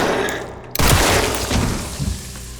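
Gunfire in the Resident Evil Requiem video game: a sharp loud blast bursts in after near-silence, followed by a sustained crashing, shattering wash with a few further thumps and no talking.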